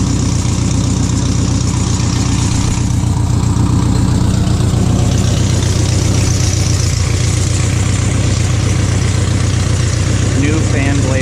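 A 1964 Fiat 600D with a 767cc engine idles nearby, a loud, steady, low rhythmic chug that holds constant for the whole stretch, with talk faintly beneath it.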